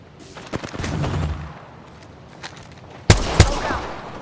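Gunfire in a video game: a few scattered sharp shots early, then a quiet gap, followed by a loud close burst of rapid firing near the end.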